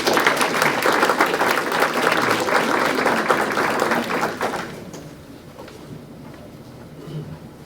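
An audience applauds at a spring grant celebration, dense steady clapping for about four and a half seconds before fading to a quieter room with scattered faint sounds.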